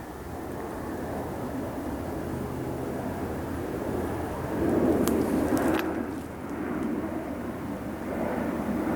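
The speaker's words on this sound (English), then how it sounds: "Sounds like an airplane." An airplane drones overhead at a moderate distance, with a broad, rumbling roar that swells gently and stays steady under faint outdoor background noise.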